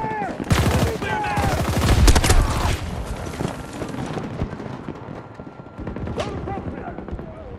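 Battlefield 2042 gunfire comes in loud, dense bursts of rapid automatic shots that ease into scattered, more distant firing, with shouted voices mixed in.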